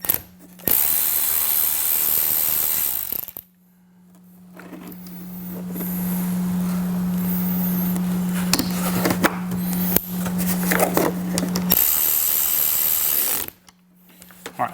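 On a 2018-up Jeep Wrangler JL, a ratchet tightens a 10mm bolt on the battery terminal. Loud, sustained mechanical ratcheting runs close up, breaks off into a stretch of quieter rattling and scraping, then returns loud near the end, with no voices.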